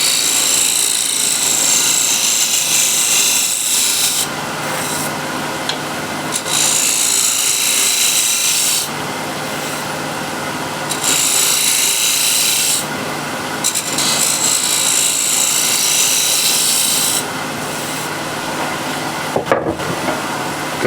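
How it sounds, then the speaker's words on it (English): A shear scraper cuts a wooden offcut spinning on a lathe, giving a steady, close rasping scrape that runs continuously with brief bursts of brighter hiss throughout. "Again, shear scraper."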